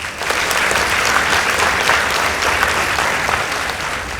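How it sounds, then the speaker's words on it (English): A crowd at a school debate contest claps loudly and steadily for several seconds, a dense sustained round of applause with no voices standing out. "Let's give both teams a round of applause."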